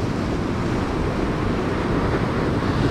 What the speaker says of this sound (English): the waves are coming over the rocks